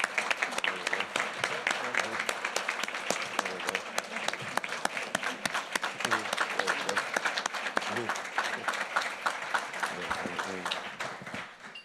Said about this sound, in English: give this council just a round of applause